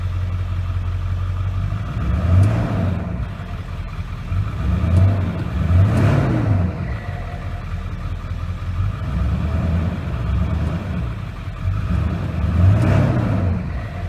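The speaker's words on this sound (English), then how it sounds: "And rev it up for you real quick." A 2001 Ford F250 Super Duty 7.3 diesel engine with cold air intake and aftermarket exhaust idles with a deep rumble and is revved several times, each rev swelling and falling back, heard up close.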